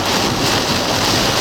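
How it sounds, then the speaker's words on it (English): Strong storm wind during a Missouri storm chase, roaring steadily and loudly as it buffets the microphone with broad, constant rushing noise and no talk. "That's some strong wind, ain't it?"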